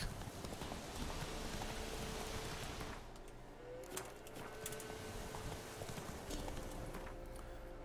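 Roach the horse's hooves clip-clop steadily in The Witcher 3, a continuous rhythmic beat over a bed of rain-like ambient noise and faint bird calls.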